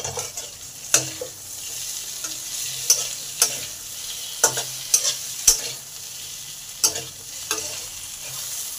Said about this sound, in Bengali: এবার আলু আর পটল একসঙ্গে ভেজে নেব।